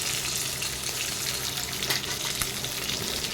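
Shutki dried fish being fried with onions in oil, heard as a constant near sizzle with faint stirring movements through the short stretch.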